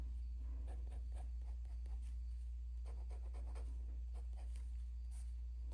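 Soft, close scratching of a pen writing with ink across paper in short strokes, faint over a steady low hum.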